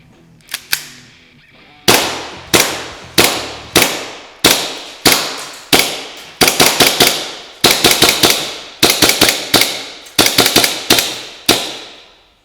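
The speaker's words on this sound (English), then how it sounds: "we're going to go ahead and test the blowback action of this gun" WE Hi Capa Dragon 7 two-tone airsoft gas blowback pistol firing BBs, sharp loud cracks with slide snap, single shots and quick doubles and triples in an uneven sequence, close and alone.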